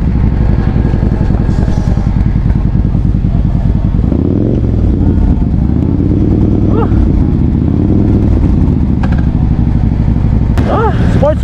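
A sports bike motorcycle engine runs loud and close, revving up and down with a throaty drone while voices talk over it and faint background clatter sounds.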